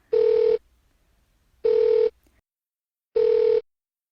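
A telephone call being placed during a Christmas stage play: three evenly spaced electronic ringback tones, each lasting about half a second, clear and alone against near silence.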